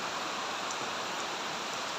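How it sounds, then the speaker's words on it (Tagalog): Heavy rain falls in rural Bicol, a steady close wash of noise from drops on leaves and surfaces, fairly soft but constant, with no talking. "Grabing ulan."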